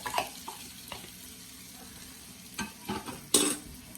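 Seasoned bread cubes are stirred in butter in a pan for croutons, with a soft sizzle under scattered scrapes and taps of the spoon, plus one sharper clatter near the end, close and fairly quiet.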